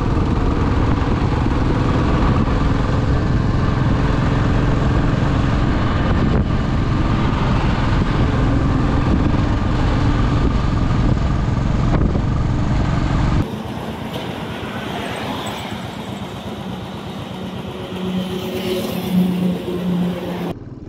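A Matador van passes on a road out of Kolkata toward Ranchi, heard as a loud, steady engine rumble that gives way to a lower, rougher drone with a brief swell near the end.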